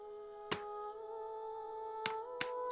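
Three sharp plastic snaps from a game case, one early and two close together near the end, over a steady electronic hum.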